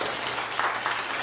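A church congregation at a Sunday worship service claps warmly in a brief burst of steady, even applause with no speech over it.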